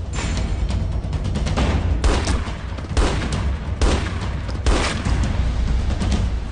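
Heavy gunfire crackles through a shootout in a TV crime drama, loud and close, with sustained bursts broken by sharper booming shots at roughly regular intervals.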